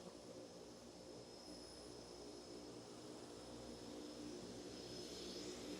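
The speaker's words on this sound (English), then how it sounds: "a plane just landed" A small plane drones steadily overhead while landing, a continuous engine and propeller hum at moderate distance with no speech.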